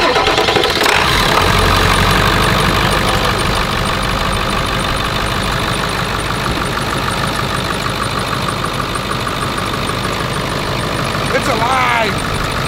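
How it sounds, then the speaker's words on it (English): A 7.3 diesel truck engine cranks and catches near the start, then settles into a loud, close, steady rumbling run, with voices faintly over the engine. "fire her up and see how she does"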